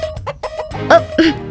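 A rooster lets out a short burst of loud, close clucking calls, rising at the end.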